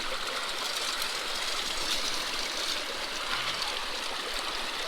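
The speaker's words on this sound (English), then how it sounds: "Throw a bunch on real quick because I know my sluice can handle it." Water and gravel run through a gold sluice box at the Kern River, a continuous rushing, splashing flow with no breaks, close and steady, no voices.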